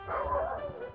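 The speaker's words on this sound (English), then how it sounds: "There goes my dog barking." A pet dog gives a quick pair of high yipping barks nearby, brief and fairly faint against quiet room tone.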